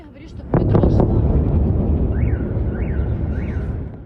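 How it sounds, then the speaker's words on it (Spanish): A sudden loud blast from a military attack in Ukraine, followed by a long, heavy rumbling roar that slowly fades, with faint rising and falling tones in the background. "Explosiones que provenían de lugares cercanos."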